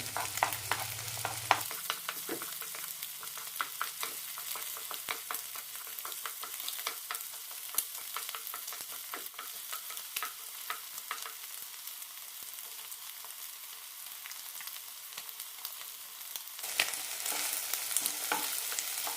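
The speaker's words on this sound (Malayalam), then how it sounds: "മുട്ട കുറച്ച് വെന്ത ശേഷം എല്ലാം കൂടി മിക്സ് ചെയ്യാം" Jackfruit seeds and egg stir fry sizzling in a pan while being stirred, a steady close crackle with frequent light clicks of the spoon, running alone for almost twenty seconds.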